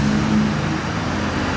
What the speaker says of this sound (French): Downshift dans l'arrivée du virage.